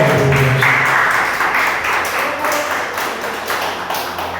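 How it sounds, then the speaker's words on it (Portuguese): A church congregation claps hard and steadily for Jesus, a fast regular rhythm of loud, close hand claps filling the room with no talk over it. "Palmas para Jesus, bem forte para Ele"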